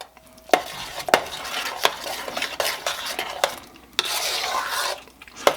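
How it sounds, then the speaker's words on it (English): A spoon scrapes and knocks around a pot as half and half is stirred into potatoes for shepherd's pie, with repeated sharp clinks against the sides over a continuous wet mixing rub. "And stir this pretty good. Get that all mixed in there"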